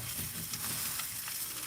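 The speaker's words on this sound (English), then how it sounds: "other than frying up some Spam" Spam fries in a pan, giving a steady, soft crackling sizzle with faint popping throughout, alone and without any talking.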